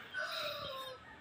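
Gamefowl roosters on a game farm in Cebu City crow in a single drawn-out call lasting about a second, clear and alone against the farm's background.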